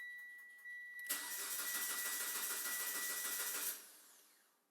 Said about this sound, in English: Now, try to start the car to depressurize the fuel line. Car shouldn't start.